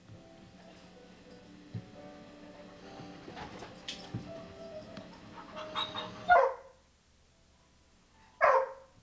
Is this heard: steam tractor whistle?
no